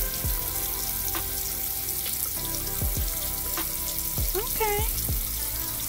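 Tap water runs steadily while whipped body wash is worked into a lather by hand, with sharp splashes and squelches near the end and someone speaking briefly over it.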